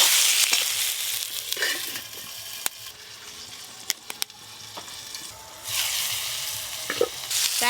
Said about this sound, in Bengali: এবার বেগুনগুলোও ভালো করে ভেজে নেব।